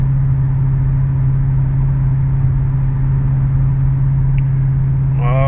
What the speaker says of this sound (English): We're driving a Challenger.